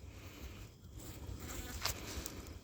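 Angry honeybees buzz around a beekeeper at an open hive, a faint, steady hum with a few close passes flaring louder, no speech heard.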